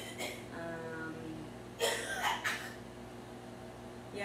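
A couple of short, raspy coughs stand out near the middle over a quiet room with a faint steady hum.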